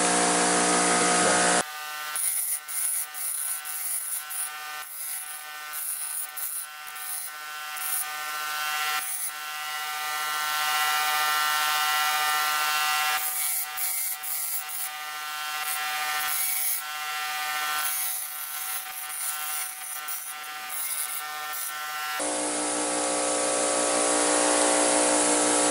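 Power tool grinding down the thick tip of a pair of pliers in a workshop, a loud steady whine running almost continuously with brief pauses and shifts in pitch, no talk.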